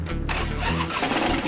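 A custom-built motorcycle engine runs loud and steady at close range, its deep, throaty rumble continuing without a break after a short burst of higher noise at the very start.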